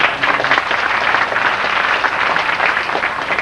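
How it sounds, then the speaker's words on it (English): A theme park show audience at Universal Studios breaks into a big round of applause, a loud, continuous patter of many hands clapping close by, with no voices over it. "we'll give you a big round of applause"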